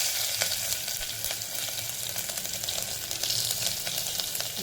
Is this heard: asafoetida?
yes